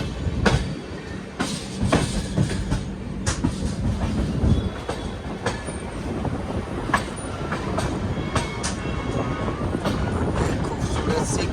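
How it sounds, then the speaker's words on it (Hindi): Alappuzha Express leaving Ranchi Junction on a curve, with steady clickety-clack of wheels over rail joints, rumbling carriages and sharp periodic clanks, heard close and continuous for the whole stretch. "खूबसूरत सी कर्व के साथ आप देखो रांची जंक्शन को बाय बाय करती हुई हमारी अल्लपुरजा एक्सप्रेस, LFP एक्सप्रेस"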